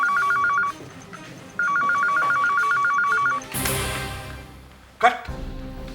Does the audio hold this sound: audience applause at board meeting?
no